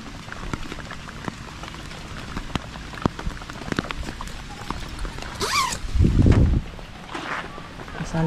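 Rain falls on a campsite around a tent, a steady patter with scattered sharper drops hitting nearby surfaces, and a brief louder rumble of rustling partway through.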